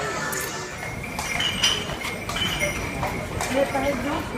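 A horse pulling a cart on a street in Italy clip-clops steadily at a moderate distance, its hooves heard under a busy background with voices talking.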